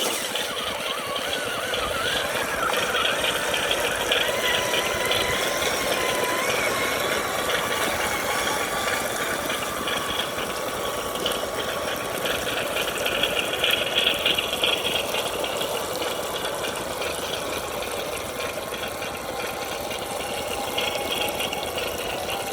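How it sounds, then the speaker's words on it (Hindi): A remote control Swaraj 855 tractor drives through mud and water, giving a continuous whining motor hum with rattling and splashing throughout, steady and close, with no voices. "ये देखो सामने बड़ी हुई कीचड़ और इसी में चलाने वाले हम इस वाली कार को"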